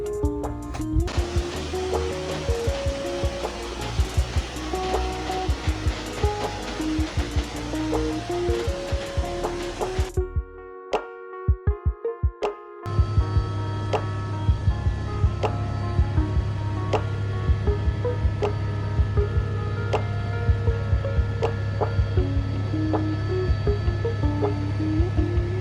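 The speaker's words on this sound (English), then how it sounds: "We just need to make the run in the helicopter." Steady, loud helicopter engine and rotor roar at Everest Base Camp, dropping out briefly for a couple of seconds and then returning with a deeper, constant drone.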